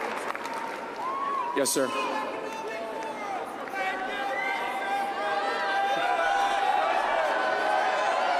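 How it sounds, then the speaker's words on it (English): A large crowd at a political rally where executive orders are being signed onstage keeps up a dense wash of cheering and shouting, with a voice speaking briefly over it. "People are cheering."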